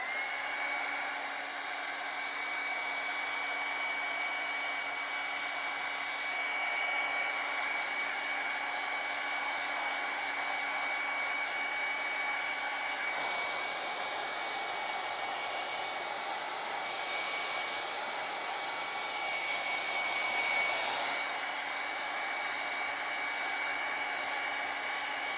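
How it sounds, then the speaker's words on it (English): A hairdryer runs steadily and close by to dry thick acrylic paint on a penguin painting, giving a continuous whirring blow with slight shifts in pitch as it moves, and no voices. "I'm going to use the hairdryer"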